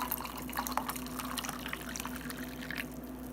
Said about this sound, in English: now I'm just going to add the water. And I just fill this all the way up to the top.